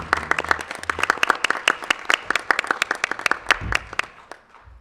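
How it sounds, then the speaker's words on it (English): Applause from a school committee meeting audience, sparse and uneven, with distinct individual claps in an irregular rhythm that keep going for a few seconds and then thin out at the end. "if you would just stand for a minute so we can applaud."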